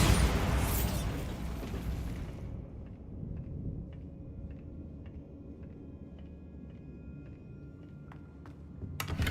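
Bombarda spell in Hogwarts Legacy erupts in a loud, roaring explosive blast that dies away within a couple of seconds, leaving faint regular ticking and a low rumble before another swell at the end.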